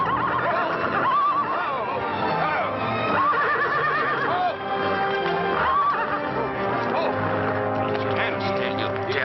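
Several loud horse whinnies sound in quick succession, with hooves clip-clopping underneath and occasional voices in between.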